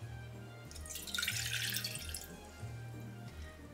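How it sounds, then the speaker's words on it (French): Water is poured into a pot for a white mirror glaze for a keto raspberry pistachio yule log, a close trickling and splashing pour that swells for about a second and then fades. "Maintenant, on vient mettre l'eau"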